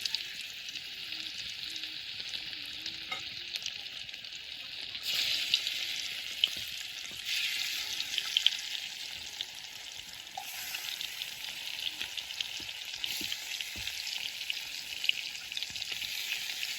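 Fish fries on a home stove with a continuous, even hiss of sizzling oil, fairly quiet and steady, with no voices.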